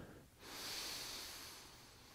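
A long, steady inhale through the nose during a yoga exercise rises after a short pause into a smooth, breathy hiss and holds for nearly two seconds. The breath is close and fairly quiet, with no talking.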